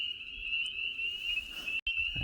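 A leopard frog outdoors, with a steady high insect-like trill running throughout and a few low, soft pulses beneath. The trill briefly cuts out near the end before a rustle.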